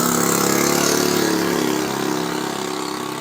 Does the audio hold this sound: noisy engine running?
yes